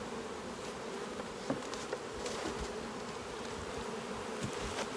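A dense, steady buzz of many Saskatraz honeybees swarming close by around an opened hive, with a few soft knocks and bumps from handling.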